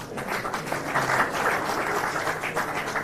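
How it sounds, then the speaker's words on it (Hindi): An audience at a student commemoration event for martyrs breaks into applause, a dense burst of many hands clapping at moderate loudness for a few seconds. "इस उम्मीद के लिए एक बार आप लोग ताली बजाएं"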